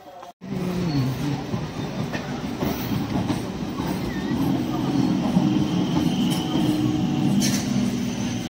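A train rumbles past at a rural station with a continuous loud roar and a clickety-clack of wheels over the rails, steady throughout, while voices murmur faintly underneath.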